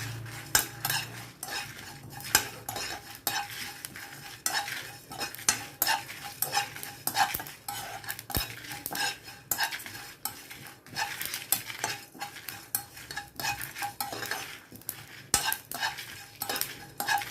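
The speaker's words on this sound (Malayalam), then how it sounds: "ഇത് നന്നായിട്ട് പൊട്ടി വരുന്നുണ്ട്." Dry roasting three chilies with fennel, cumin, coriander seeds and peppercorns in a pan, with continuous close scraping and stirring of a spoon against metal over a light sizzle, rhythmic and steady throughout, no talk.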